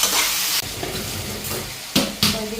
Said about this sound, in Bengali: আলুটা হালকা ভাজা হোক, পরে মাছের তেলটা উঠিয়ে দেব।